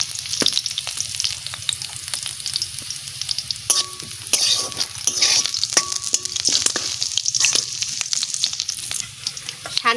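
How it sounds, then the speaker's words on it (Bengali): Garlic frying in hot oil for a mustard-greens and tilapia dish, a loud, steady close sizzle with bright crackle and occasional stirring scrapes throughout. "প্রথমে তেল দিয়ে দিচ্ছি রসুন"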